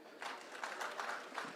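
An audience applauds at a Migori County security forum, a soft, distant patter of clapping lasting only a moment.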